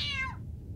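A single short cat meow from the Harry Potter video game is heard clearly and quietly, falling in pitch and then ending in near silence.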